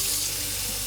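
Water streaming steadily into a measuring container for homemade plant-based milk, a loud, close, continuous splashing pour with no voices.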